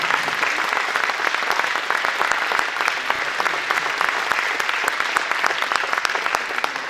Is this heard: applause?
yes